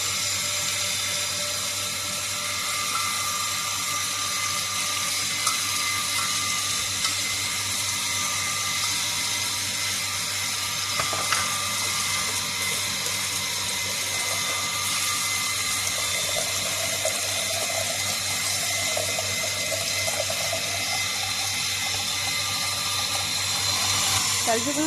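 Fish pieces rinsed one by one under running water in a Bengali kitchen: a steady hiss of flowing water with a constant mechanical hum underneath, continuous and moderately loud, with faint voices in the background.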